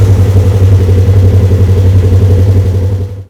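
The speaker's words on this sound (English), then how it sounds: "start the vehicle, and let it idle for 30 seconds" A Polaris RZR RS1 side-by-side engine runs at a steady idle, a loud, close, pulsing low throb that holds even throughout before cutting off abruptly at the end.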